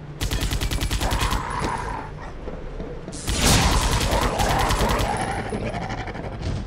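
Tesla guns firing in rapid crackling bursts in the video game Vivisector: Beast Within, loud and near, with a sustained volley in the first half and a heavier burst in the second, no voices.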